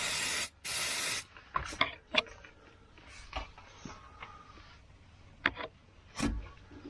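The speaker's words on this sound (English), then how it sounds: "Then I'm going to spray it with some brake clean to get the dirt around it off" Brake cleaner sprays from an aerosol can onto a transfer case plug on a Chevrolet Colorado, two loud close hissing bursts, followed by scattered clinks and light handling noises.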